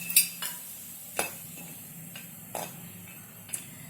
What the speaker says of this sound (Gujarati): ઘી ગરમ થઈ ગયું છે. હવે પહેલા આપણે એમાં બદામ શેકશું.